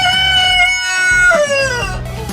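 Free-range chickens call loudly and close, a single drawn-out, strongly pitched vocal phrase lasting a couple of seconds with no talking.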